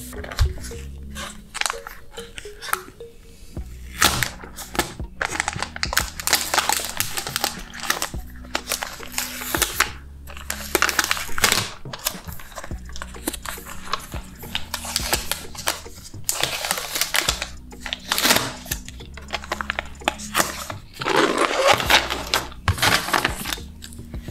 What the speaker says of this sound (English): taking off the plastic from the laptop